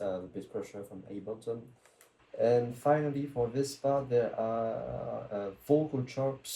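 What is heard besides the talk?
No everyday noise stands out behind the speech.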